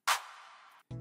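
A single St. Clair hit sample: one sharp, bright attack that rings briefly as a short decaying tail, then cuts off.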